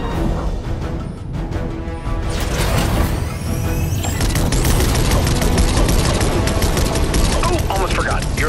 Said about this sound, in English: I was hoping we'd have an excuse to try out the Battle Bus's laser cannons